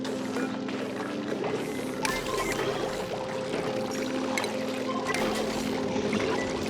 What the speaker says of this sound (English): It's just leaking water.